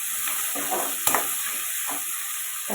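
Salted tomatoes sizzle in a pan in a steady, bright hiss, broken by a sharp spatula scrape and a few softer stirring strokes close by.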